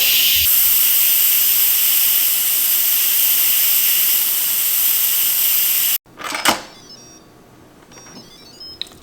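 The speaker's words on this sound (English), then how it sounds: "we'll go ahead and release the steam" An Instant Pot pressure cooker vents steam in a loud, steady hiss that cuts off abruptly, followed by a few clicks and faint knocks in a quiet kitchen.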